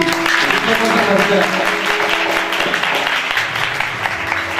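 An audience claps continuously and fairly loudly during Christian worship singing, a dense wash of hand claps with voices mixed in underneath.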